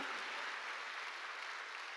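A church congregation applauds during a sermon, a dense steady wash of clapping lasting about two seconds, with no voice heard over it.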